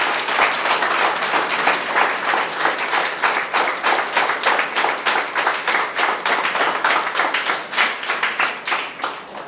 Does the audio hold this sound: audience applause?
yes